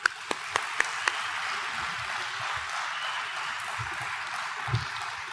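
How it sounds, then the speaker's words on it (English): An audience at a Space Camp Hall of Fame induction ceremony gives a soft, even round of applause, opening with a few sharp separate claps before settling into a continuous distant patter. "Give them a round of applause."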